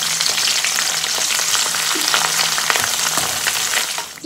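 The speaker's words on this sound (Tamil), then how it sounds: "இந்த எண்ணெயிலே இந்த கருகப்பமில ரொம்ப கராம்பு கருவா ஏலக்காய் மூண்டையும் சேர்த்து பொறிச்செடுப்போம்." Curry leaves, cloves, cinnamon and cardamom fry in hot oil with a steady, dense crackling sizzle and a few sharper pops, staying close and loud throughout with no talking.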